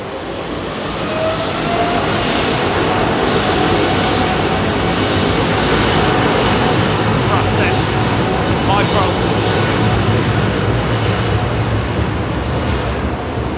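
Jet airliner engines spool up for takeoff at foggy Heathrow, a loud, steady, dense roar that holds at full strength from start to finish, with no pause or letup.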